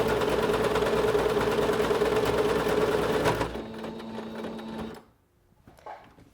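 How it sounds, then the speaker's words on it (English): Singer SewMate 5400 sewing machine stitching a buttonhole, a fast steady mechanical whirring clatter, close and loud, that runs for about three seconds, slows through a lower hum and then stops on its own. "I'm going to keep pushing the pedal on the floor until the machine stops. It will stop on its own when it's done stitching"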